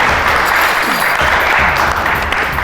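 Studio audience clapping continuously on an Odia TV reality game show, a dense steady wash of applause throughout with music and crowd noise underneath.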